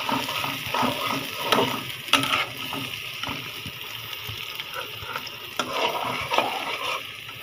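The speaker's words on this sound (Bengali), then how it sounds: "পেঁয়াজগুলা ভাজা হচ্ছে" Onions fry in a pan beside eggs for a Bengali egg bhuna, a soft continuous crackle broken by occasional stirring clunks and scrapes, with no talking.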